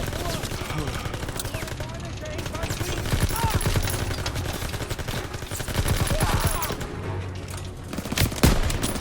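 Dense, steady rattle of weapon fire in Call of Duty: WW2, with heavier clusters near four and six seconds. Excited voices shout in Thai over the shooting.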